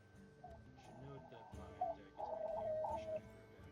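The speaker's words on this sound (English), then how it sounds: "And yes, I have doves and they like to sing." Pet doves heard nearby, giving soft cooing and warbling calls in short phrases while someone talks over them.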